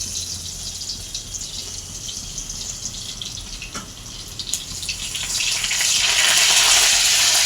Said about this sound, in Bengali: তেল গরম হয়ে গেছে, পেঁয়াজ কুচি দিয়ে দেবো